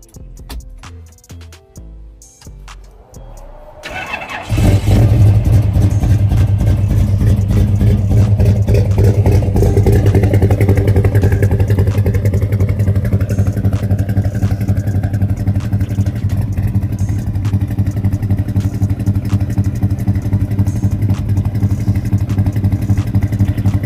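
A Chevrolet C10 short bed truck engine cranks briefly and then catches with a loud roar, settling into a steady, throaty idle that rumbles on close up for the rest of the clip.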